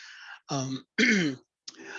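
Three short, harsh throat-clearing coughs with brief pauses between them, close and fairly loud.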